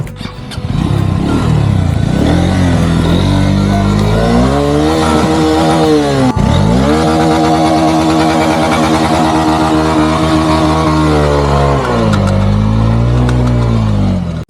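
An off-road motorcycle engine revs hard right up close, its pitch climbing and falling repeatedly in loud surges, with a sharp knock partway through.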